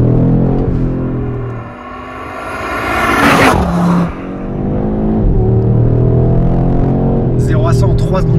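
Audi RS car accelerating hard to 100 km/h, its engine rising steadily in pitch through the gears with a brief shift dip, loud and continuous from start to finish without talk.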